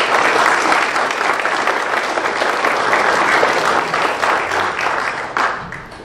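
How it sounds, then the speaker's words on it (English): A church congregation at Alive Wesleyan Church gives a big, loud round of applause for a newly welcomed member, dense clapping that holds steady for about five seconds before tapering off. "Let's give a big round of applause."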